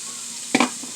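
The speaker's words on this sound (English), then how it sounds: "We already put our garlic and sauté it like that. And now let's put our onion." Garlic and onion sautéing in a pan sizzle softly under a short, sharp clatter as the onion drops in, with the frying continuing afterward.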